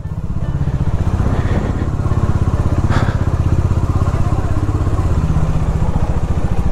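A motorcycle engine chugs steadily and loudly close by as it rides through a narrow lane in Marpha, an old village in Nepal, with a rhythmic low thrum throughout and a brief brighter clatter midway.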